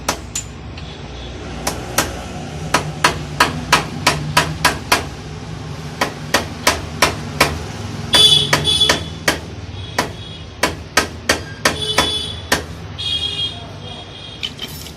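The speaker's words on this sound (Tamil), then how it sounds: "இன்சர்ட் பண்ணிவிட்டு ஹேமரால் லைட்டாக தட்டிக்கிறோம் ஈவனாக." A hammer lightly taps a Splendor motorcycle's fork cone set into the chassis, giving a steady series of sharp, close metallic knocks with short gaps, then quicker clusters of taps toward the end.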